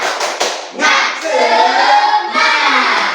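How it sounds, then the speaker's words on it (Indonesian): Schoolchildren in a classroom doing a rhythmic spirit clap, sharp claps and chanting voices in quick patterned bursts, loud and close. "Ayo tepuk semangat."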